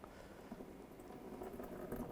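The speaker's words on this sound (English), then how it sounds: "let the coolant drain out nice and slow" Coolant draining slowly from a 2002-2009 Chevy Trailblazer engine during a thermostat housing replacement, a faint continuous bubbling trickle of liquid heard alone.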